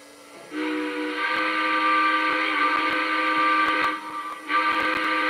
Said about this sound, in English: See if you can get a better shot of the whistle steam here.